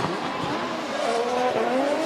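A Lexus RC F drift car at a Formula Drift Japan event rotating through a clipping zone, its engine howling with rising pitch alongside tyre squeal, loud and close for the whole short burst.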